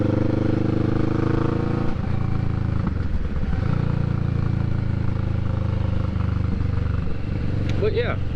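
A motorcycle engine drones steadily while riding along a road, with gear-change dips and shifting revs, close and continuous, with a voice talking over it at times.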